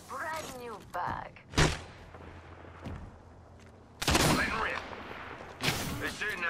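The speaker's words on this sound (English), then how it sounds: "They're shooting at me." Apex Legends gunfire crackles in several loud bursts of rapid shots between stretches of quieter game sound, with a voice talking between and over the volleys.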